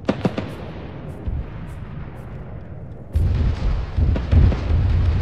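Heavy booms of artillery fire landing in the Arma 3 war game, rolling deep rumbles with a sudden loud blast midway and continued thudding impacts, dense and sustained.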